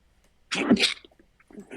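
A single close, sharp sneeze bursts out after a brief quiet, followed by faint movement and a soft murmur.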